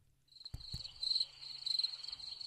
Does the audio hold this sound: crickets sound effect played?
yes